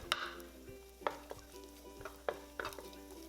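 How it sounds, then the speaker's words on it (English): Chopped Chinese sausage stir frying in olive oil in a pan, a soft continuous sizzle broken by several sharp scrapes and clanks of a spatula against the pan at irregular intervals. "add the chopped Chinese sausage and stir fry for about 1 minute"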